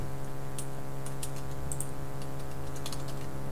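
Sparse, light key clicks of someone typing a password on a computer keyboard, faint over a steady loud electronic hum.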